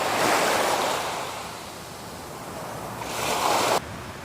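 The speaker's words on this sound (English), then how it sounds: "you can hear the waves in the background." Ocean surf washing ashore near mountains, a steady broad roar that swells loudest at the start and again near the end, with some wind buffeting the microphone and no voices.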